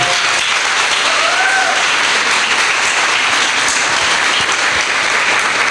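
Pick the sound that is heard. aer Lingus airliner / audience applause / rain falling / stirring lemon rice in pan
audience applause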